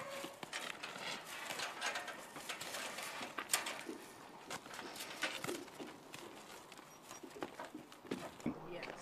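Hooves of ridden horses clip-clopping in a steady uneven rhythm, fairly close, with a person talking over much of it.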